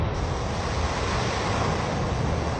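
Floodwater and surf churn during a super typhoon in Catanduanes in the Bicol region, a continuous loud roar of rushing water and wind with no voices heard.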